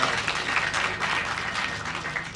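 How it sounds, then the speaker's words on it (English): Audience at the announcement of the 2023 KCPE/KPSEA exam results applauding steadily, a continuous even wash of clapping from a crowd with no voices over it. "Another round of applause,"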